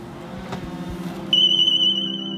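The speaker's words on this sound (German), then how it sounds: "Wird der Mäher aus seinem Mähbereich gehoben, ertönt ein lauter Alarm." A loud, steady high-pitched electronic anti-theft alarm from a Husqvarna Automower robotic lawn mower lifted out of its mowing area suddenly starts partway through and holds, after a stretch of low mechanical rumble and handling noise.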